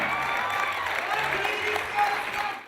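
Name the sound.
audience applauding guests walking the red carpet at film festival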